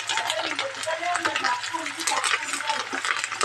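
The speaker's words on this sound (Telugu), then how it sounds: "పచ్చిమిర్చి అనేది మనపై పడుతుంది కదండి, ఆయిల్ లైట్గా కలుపుతూ వేయించుకోవాలి." Green chillies fry and crackle in hot oil while a spoon stirs them lightly, a steady busy sizzle with scraping strokes running throughout and no talk.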